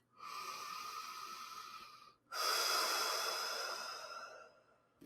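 Two long, slow breaths during a relaxation exercise, close and airy, each a drawn-out rush of air with a brief pause between them.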